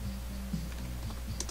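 Quiet keystrokes tapped on a computer keyboard indoors, a few soft scattered clicks over a steady low background hum, alone and without any talk.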